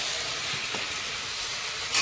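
Sliced eggplant sizzles as it fries in a pan, producing a soft, steady hiss that swells slightly near the end, with no talking.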